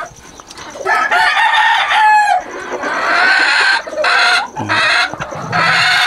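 Gamefowl roosters of a raptor bloodline crow and cluck on a ranch, several loud drawn-out crows overlapping with clucking calls, close and continuous.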